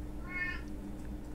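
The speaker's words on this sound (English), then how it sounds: "my cat's meowing" A house cat gives a single short meow, quiet and slightly distant, over a steady low hum in an indoor room.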